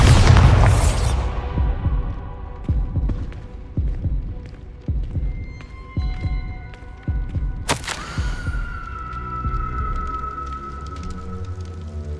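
A Bombarda spell in the Hogwarts Legacy video game opens with a heavy, booming blast, followed by rumbling debris thuds and low pulses, then a sharp bright burst and a lingering tonal hum.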